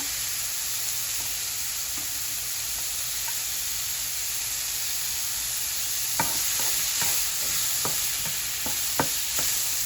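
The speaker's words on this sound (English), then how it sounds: "I'm basically like roasting the mushrooms with just a little bit of olive oil." Mushrooms roast in a little olive oil in a pan, a loud, continuous sizzling hiss that runs throughout, with a cluster of spoon scrapes and taps near the end.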